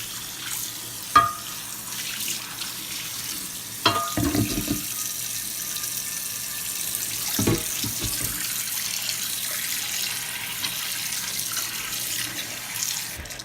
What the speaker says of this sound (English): Now you're going to rinse it out.